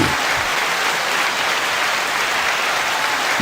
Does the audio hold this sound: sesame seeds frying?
no